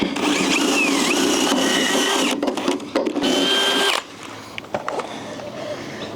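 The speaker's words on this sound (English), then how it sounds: "So I'm gonna get this auger bit, I might need to jump across. Let's just go all the way through." An auger bit bores through wood with a loud, close whining grind that strains and pitches down, stopping abruptly and leaving scattered light knocks and handling sounds.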